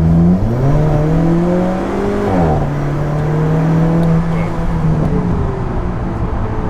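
An ultralight Alfa Romeo 4C sports car pulls hard under acceleration, its loud engine note climbing through the revs, dropping at a gear change and climbing again, heard from inside the car with occasional voices.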